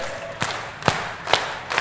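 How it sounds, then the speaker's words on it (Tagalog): At a rap battle, the audience claps in unison to a steady beat, with four sharp, evenly spaced group claps rising above a background of crowd noise. "Bigyan nyo lang ng palakpak."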